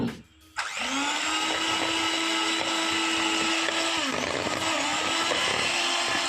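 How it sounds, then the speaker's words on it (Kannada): An electric blender whirs on after a brief pause and runs steadily and loudly, mixing chocolate cake sponge batter made with eggs and vanilla essence. "ಈಗ ನೆಕ್ಸ್ಟ್ ಬಂದು ಬ್ಲೆಂಡರ್ ಆನ್ ಮಾಡಿಕೊಂಡು ನಾವು ಬ್ಲೆಂಡ್ ಮಾಡ್ಕೊಳ್ಳೋಣ ಎಲ್ಲನೂ"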